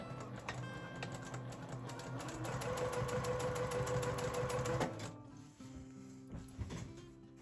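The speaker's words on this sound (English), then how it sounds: "We're just going to go down and top stitch on both sides, 1/8 of an inch in, using a 3mm stitch length." Sewing machine running steady rows of close topstitching along tote bag handles, 1/8 inch from the edge with a 3 mm stitch length; a dense, even rapid whir that stops near five seconds, leaving softer handling clatter.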